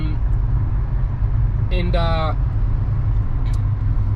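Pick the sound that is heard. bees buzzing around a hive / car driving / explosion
car driving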